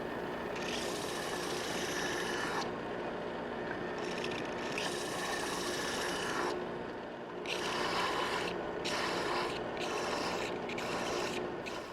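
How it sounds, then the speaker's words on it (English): A belt sander shapes a wooden tool handle, its steady mechanical whir broken into bursts of gritty rasping as the wood is pressed on and lifted off the belt, close and continuous. "I just lay it on the flat, and as I come off, I sweep it up this way"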